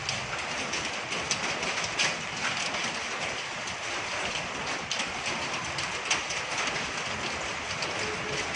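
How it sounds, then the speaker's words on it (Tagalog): Heavy rain pours steadily and noisily during the January 2020 Taal volcano eruption, a dense continuous hiss close by, with no speech. "Ah, yung maingay po, ulan po"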